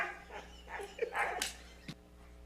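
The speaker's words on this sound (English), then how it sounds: "My Dog Can Laugh" A dog makes a series of short, breathy, laugh-like vocal bursts, irregular and fairly faint against a steady background hum.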